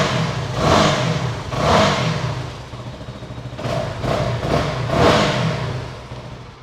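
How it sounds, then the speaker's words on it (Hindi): Keeway K300N 300cc single-cylinder motorcycle engine revving in repeated blips, each rising and falling over a steady low idle, close and fairly loud with no talking. "ये सिंगल सिलेंडर की आवाज़ है।"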